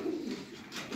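Soft low cooing from a pigeon, one of a pair of fancy breeding pigeons, two or three murmured coos close by, fairly quiet, with no voices.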